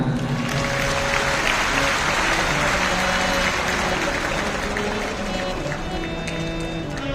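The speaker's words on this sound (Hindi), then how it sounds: "जोरदार ताली बजाएं" Large crowd at a Shiva Mahapuran katha gathering in Bathinda clapping loudly and continuously, a dense sustained wash of applause that tapers slightly near the end.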